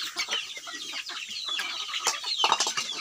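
Rhode Island chickens cluck and chatter busily at feeding time, several birds calling over one another up close in a continuous, scratchy stream of short clucks.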